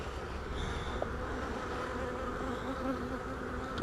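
Honeybees buzz steadily throughout a hive inspection as a honey super is added, a dense, close insect drone with no talking.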